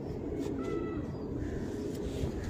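A female slaty pigeon gives soft, low cooing, steady and close, over a faint background hum with no talk.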